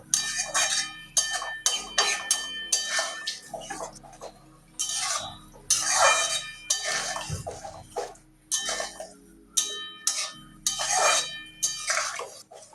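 A spoon clinks and scrapes repeatedly against a pot while thick lentil and okra curry is stirred, close and steady, with short rhythmic strokes and wet squelching.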